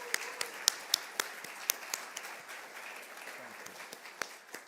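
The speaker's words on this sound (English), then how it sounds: "Let's give her a round of applause as she steps out of that row." Light applause from a congregation, with a few distinct sharp claps standing out near by over a thinner, scattered patter that gradually tapers.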